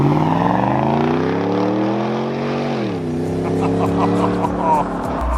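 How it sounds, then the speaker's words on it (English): A V8 Ford Raptor truck with a Whipple supercharger and purple underglow lights roars past on a summer night, a loud, steady engine drone whose pitch drops midway through as it passes. "listening to a V8 Whipple supercharged Raptor fly by with purple underglow lights"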